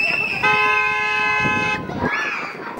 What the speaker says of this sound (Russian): нарушить школьную тишину громким спецсигналом